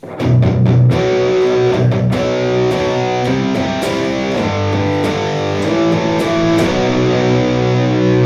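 Heavily distorted electric guitar through the Zoom G1X Four's Rev generator Violet distortion, playing sustained chords and riffs, loud and continuous with a thick, saturated tone, very little noise and no talking.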